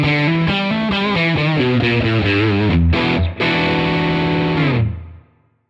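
Electric guitar on the bridge pickup, played through the Tonex C-Tweed Jubilee tone model, rings out in loud, driven chords and riffs for about five seconds with one brief break before the final chord fades away.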